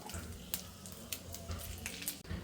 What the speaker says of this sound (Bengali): এবার আমি বাকি তেলটার মধ্যে ফোড়নে দিয়ে দেব গোটা জিরে, তেজপাতা, শুকনো লঙ্কা।